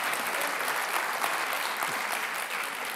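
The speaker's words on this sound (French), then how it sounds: "on peut l'applaudir" Lecture-hall audience applauding a literature scholar at a French academic lecture, a steady, fairly loud wash of many hands clapping throughout, with no talking over it.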